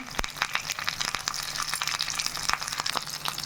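Onions and a sprig of curry leaves sauté in hot oil in a clay pot, giving a steady close sizzle broken by sharp crackles and pops throughout, with no talking.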